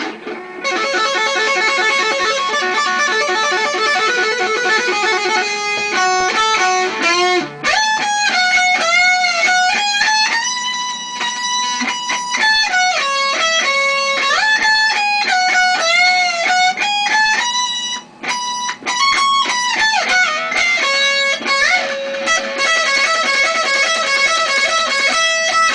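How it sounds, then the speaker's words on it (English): A guitar solo on a loud, distorted electric guitar, fast runs and bent, wailing held notes pouring out continuously and close, with no talking over it. "So basically the solo should sound something like this."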